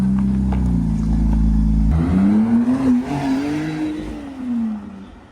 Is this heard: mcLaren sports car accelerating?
yes